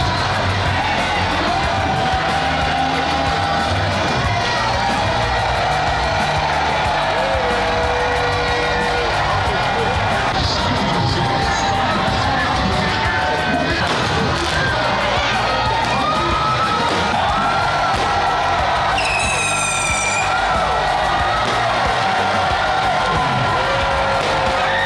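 Football fans cheer and roar at a Ghana Premier League trophy ceremony for Samatex, a dense, loud, continuous crowd din with whistles and shrill accents rising above it throughout.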